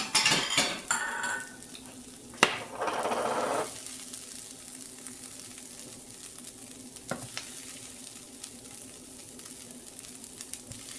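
Scraping and clattering of a utensil against a pan as fried corn with green onion and pepper is dished up, with a few sharp clinks and a brief burst of sizzling, then quieter occasional taps.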